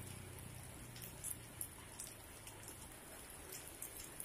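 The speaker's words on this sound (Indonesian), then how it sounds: "Di sini lagi hujan deras bro." Heavy rain pours down steadily on a surface, a dense continuous patter with a few louder drops standing out, and no voices.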